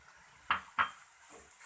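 Spatula scraping and tapping a pan while egg bhurji with coriander is mixed, two distinct clinks close together followed by softer stirring scrapes.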